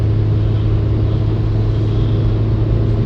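A Honda Civic running on LPG climbs a hill on a long highway drive, its engine giving a loud, steady, low drone with road rumble and no clear break for a gear change.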